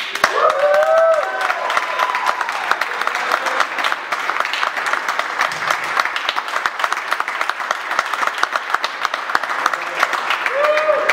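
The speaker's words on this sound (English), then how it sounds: "I would appreciate a round of applause." A round of applause at a launch event: dense, steady clapping from a sizeable crowd that holds for the whole stretch, close and fairly loud.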